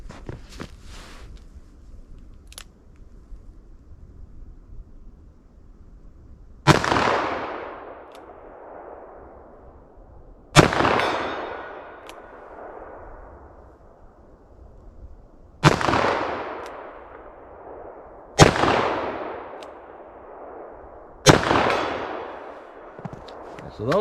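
.44 Magnum revolver firing hard cast solid rounds outdoors: five loud, sharp shots spaced several seconds apart, each with a long decaying echo, after a quiet stretch of handling noise.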